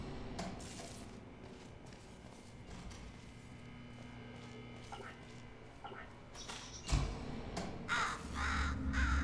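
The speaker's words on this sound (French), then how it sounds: "Oh, le corbeau." A crow caws in the video game Portal Stories: Mel, heard against steady game ambience with scattered clinks and a louder thump near the end. A person talks through parts of it.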